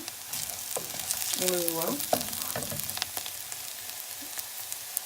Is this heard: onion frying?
yes